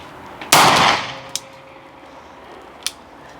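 A single sharp revolver shot cracks out on an outdoor shooting range, loud and close, and trails off in a short decaying rumble. Two faint clicks follow a little later.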